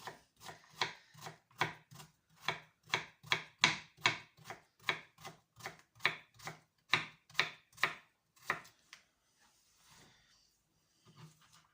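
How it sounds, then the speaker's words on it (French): A knife chops courgette on a board in a quick steady rhythm of about twenty sharp, close taps, then stops, leaving a few faint rustles and near-silence. "Maintenant que j'ai coupé toute ma courgette"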